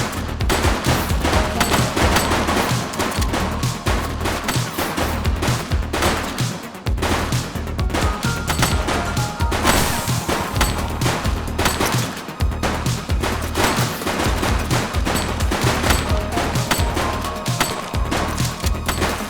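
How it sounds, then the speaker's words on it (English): Gunfire in The Precinct video game crackles in dense, rapid bursts of shots for a long stretch, loud and close over a low rumbling game backdrop. "Shots fired!"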